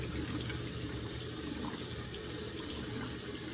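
Tap water runs steadily into a bathroom sink while a face is rinsed, a continuous even hiss and splash close by with no talking.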